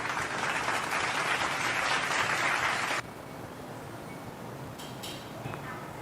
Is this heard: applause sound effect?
yes